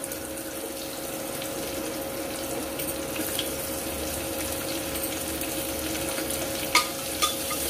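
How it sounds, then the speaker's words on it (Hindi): A medium-sized onion frying in a pan, a steady broadband sizzle with soft stirring scrapes and a couple of sharp clicks near the end, no talking. "तो हम गुलाबी होने तक भून लेंगे।"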